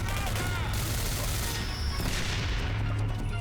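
Dense, continuous gunfire and booming shots from the shooter video game Singularity fill the whole stretch, loud and relentless, with a voice talking faintly beneath the barrage.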